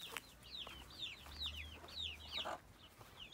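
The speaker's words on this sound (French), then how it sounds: "On va voir les poussins." Chickens and chicks on a farm, faint repeated high peeping calls in a steady rhythm over soft low clucking and quiet background noise, with no talking.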